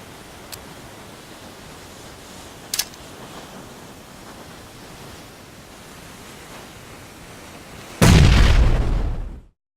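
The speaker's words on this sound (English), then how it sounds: "it takes 5 seconds to activate a smoke grenade or a normal grenade after you pull out the pin" A grenade explodes in PUBG with a sudden loud blast near the end, preceded by quiet ambient hiss and a couple of small clicks, then the boom rumbles briefly before cutting to silence.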